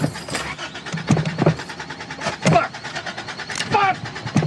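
A flooded car engine cranks repeatedly without catching, a rough churning whir with brief surges, heard close under people talking.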